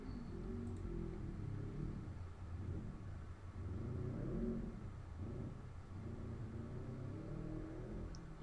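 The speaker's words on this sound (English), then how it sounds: "And listen to the motorcycle." A loud motorcycle passes outdoors, its engine a broad, steady rumble and roar that swells and fades over several seconds without any speech.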